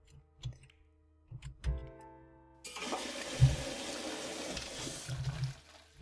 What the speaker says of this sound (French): on va tirer la chasse d'eau quand même